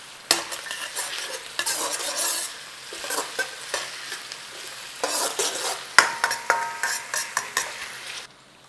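Onion cooking gently in a pan while being stirred: repeated close scraping strokes of a utensil against the pan in bursts, over a soft sizzle, with clinks between strokes and no talking.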